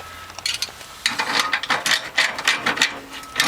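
A ratchet clicks in quick repeated bursts while nuts are snugged tight during a TUF-1 installation, close and fairly loud, with short pauses between strokes.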